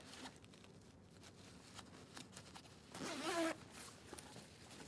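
An Alpinestars Missile motorcycle jacket is zipped up, a single quick, rasping zip near the end, faint and close over quiet background rustle.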